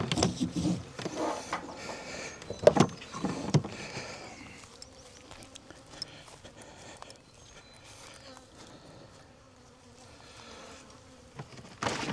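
A crowded hive box full of bees giving a steady, soft buzzing drone, with intermittent clunks and rustles of the box being handled, strongest at the start, and no talking.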